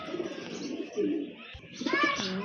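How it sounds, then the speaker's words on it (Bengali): A pair of gola pigeons coo close by, giving a few short, soft, throaty coos in quick succession. "আরেক জোড়া গোল্লা কবুতর মাশাল্লাহ খুবই সুন্দর"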